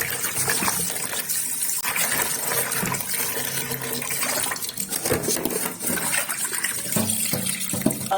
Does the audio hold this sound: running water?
yes